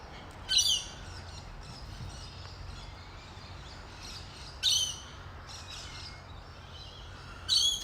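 Birds sing in a still forest, with three bright bursts of chirping and squawking calls spaced several seconds apart and softer tweets between them, all over a faint steady background hum.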